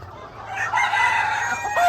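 Ornamental chickens, including a naked-neck chamois hen, cluck while a rooster crows nearby, a loud rising call that stretches across most of the short stretch.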